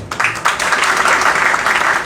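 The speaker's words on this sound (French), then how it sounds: "Il faut applaudir pour elle" Attendees at a general assembly break into loud, dense clapping that swells quickly and holds steady for a couple of seconds.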